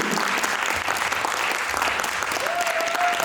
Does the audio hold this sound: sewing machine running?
no